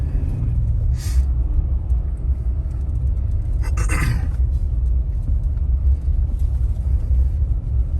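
A 2021 Nissan Titan XD pickup trying to burn out on gravel, with a steady heavy low engine rumble throughout and brief bursts of gravel spray and tire noise, no talking.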